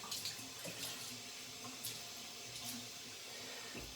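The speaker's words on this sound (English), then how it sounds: "So I'm wetting my headspace first." Running tap water used to wet a head before shaving with a safety razor, a quiet, continuous splashing flow with small shifting splatters, steady throughout and without speech.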